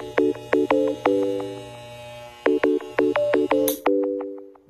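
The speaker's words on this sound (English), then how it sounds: "We're getting a phone call." A video game telephone ringtone plays a bright electronic melody of short repeated tonal beeps in two bursts, loud and close, ending with a brief click.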